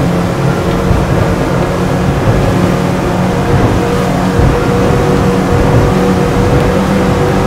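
A Nimbus W11 motorboat runs at speed on the open sea, its engines giving a loud, steady roar blended with rushing water and wind for the whole stretch, with no let-up.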